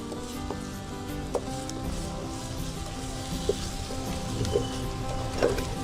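Tomatoes cooking in ghee for a garlic curry, a continuous close crackling sizzle with scattered sharper pops and occasional stirring, no talking.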